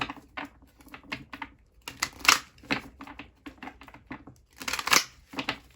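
A tarot card is drawn from the deck with crisp, close papery flicks and slaps. Quick shuffling bursts come in uneven clusters, fairly loud, with no talking over them.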